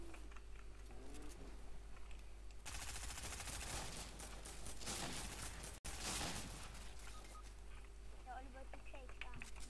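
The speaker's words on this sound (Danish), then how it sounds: "Jeg skyder byen ned." Rapid automatic gunfire from a video game bursts through a middle stretch, dense and loud, with quieter game sounds and clicks before and after, and players talking over it.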